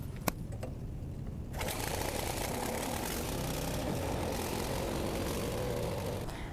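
A petrol wood chipper engine catches after a couple of sharp clicks and settles into a loud, steady buzzing drone that runs continuously, close by.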